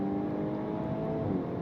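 A 2026 VW Golf R's engine hums and revs steadily from inside the cabin, enhanced through the car's speaker system: a smooth, slightly synthetic drone with no break.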